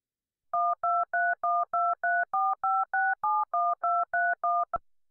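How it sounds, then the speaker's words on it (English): A rapid run of about fifteen short synthesized dual-pitch beeps, evenly spaced and loud, like telephone keypad tones, ending abruptly. "Play the file to hear the tones."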